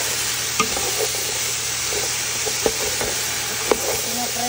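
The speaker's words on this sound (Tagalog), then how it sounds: "pinapry ko nila itong mga vegetables bago ko ilagay yung noodles" Carrot, celery and cabbage stir-fry in a pan for pancit, a constant hissing sizzle broken by a few sharp clicks of a utensil against the pan.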